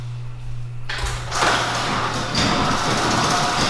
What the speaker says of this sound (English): I'm gonna open the garage door a little bit so I can get some better lighting.